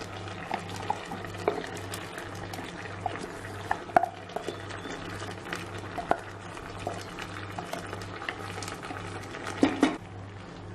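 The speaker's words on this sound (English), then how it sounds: "Now it has started to boil." A pot of avial kootan, Kerala mixed vegetables in coconut gravy, bubbles at a boil while being stirred, soft scrapes and clinks of the spoon scattered over a constant low hum.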